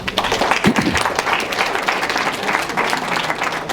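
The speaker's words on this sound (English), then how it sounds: "So another round of applause for Ali Talai." An audience applauds a speaker at a seminar on asset protection and probate, a dense, steady patter of many hands clapping that continues without a break from start to finish.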